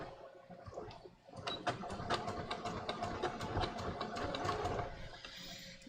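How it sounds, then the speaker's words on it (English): A sewing machine stitches a seam on floral linen shorts, a steady close whirring with rapid regular needle clicks that starts after a brief pause and runs evenly to the end, with no talking. "I'm just going to stitch along here now"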